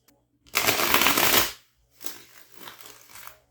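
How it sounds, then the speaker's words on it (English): Tarot cards being riffle-shuffled by hand at close range: one loud, dense flutter of cards lasting about a second, then a quieter, looser stretch of card handling and bridging after a short pause. "one more shuffle and then we'll get into it"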